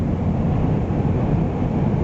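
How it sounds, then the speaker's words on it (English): A road train truck roars by near Alice Springs, Australia, a constant deep engine and tyre rumble mixed with wind noise, no one speaking. "Here's another one coming."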